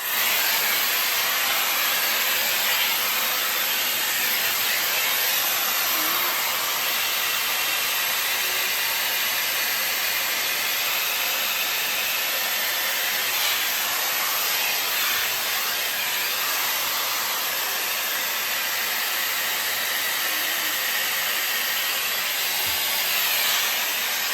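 A Shark FlexStyle hair dryer with its airbrush attachment blows a continuous, even rushing hiss of air close up, steady throughout with no talking.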